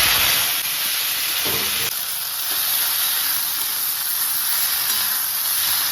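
Bok flowers dropped into a hot pan of oil tempered with whole cumin and a chilli give a steady, close sizzling hiss that holds throughout, with a brief stirring clatter in the middle.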